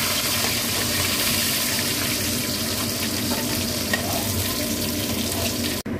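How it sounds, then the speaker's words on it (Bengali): Fish pieces frying in hot oil give a steady, dense crackling sizzle that runs evenly for several seconds. The sound is close and continuous, with no voices. "এরকম ভাবে আমি সব মাছগুলো ভেজে নিচ্ছি।"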